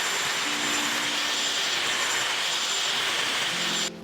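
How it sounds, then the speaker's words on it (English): A handheld blow dryer drying damp hair while it is sectioned for a blowout, giving a loud, steady, close airy whoosh that runs without a break and then drops off abruptly near the end. "so I'm just gonna hit it with the blow dryer quick."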